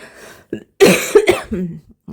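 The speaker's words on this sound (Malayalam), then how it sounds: "സോറി കുറച്ച് ചുമയുണ്ട്" A person coughs several times in short, harsh bursts, loud and close to the microphone. The coughs come in a brief irregular cluster with small gaps between them.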